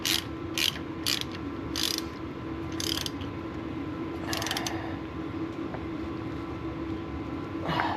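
Ratchet tightening brake caliper bolts on a 1990 K1500 pickup, giving repeated bursts of close, crisp clicking pawl strokes with short pauses between them, over a steady background hum and no talk.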